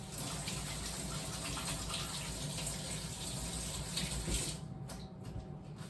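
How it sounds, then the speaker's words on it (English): Running tap water gushes steadily into a sink while hands are rinsed in a kitchen, a constant close wash that eases off near the end. "I'm gonna rinse my hands."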